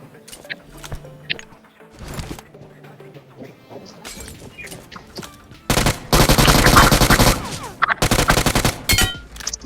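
BGMI PUBG Mobile gunfire: scattered single shots and short bursts, then a long, loud, rapid automatic burst, followed by another heavy volley.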